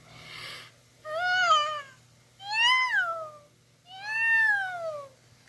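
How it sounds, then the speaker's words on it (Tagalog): A cat just woken from sleep meows three times, each a drawn-out, clear, close call with a rising-then-falling pitch, spaced by short quiet pauses. "Nagising at napangiyaw ang pusa kong kaibigan."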